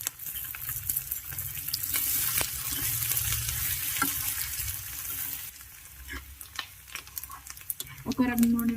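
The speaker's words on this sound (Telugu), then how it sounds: "ఒక 2-3 నిమిషాలు మంచిగా ఉల్లిగడ్డలు వేయించుకోవాలి, మంచిగా వేయిందాక" Onions fry in a pan with a steady sizzle and stirring clatter. A voice talks over the cooking, and toward the end the sizzle thins into scattered scrapes and taps.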